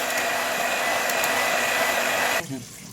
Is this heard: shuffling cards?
no